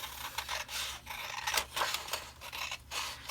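Scissors snip through junk mail paper trimmed flush against a window edge, a few close, crisp rasping cuts in quick succession.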